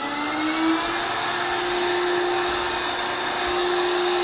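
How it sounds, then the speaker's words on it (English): A suction robot window-cleaning device runs on a shower door, giving a loud, steady motor whine and airflow hiss that holds constant throughout, close up and without talk. "this robot vacuum cleaning device is going to be able to clean up the gunk that's on my shower doors"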